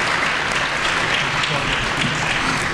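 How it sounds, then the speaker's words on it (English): An audience applauds panel speakers at the close of an evening discussion event: dense, continuous clapping fills the room at a steady loud level, with no break. "Could we please have another round of applause for tonight's speakers?"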